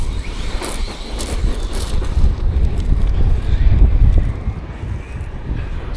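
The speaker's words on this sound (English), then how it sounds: "It's quite windy today." Strong outdoor wind buffets the microphone in a continuous low rumble with gusty swells, steady and loud throughout with no other clear sounds.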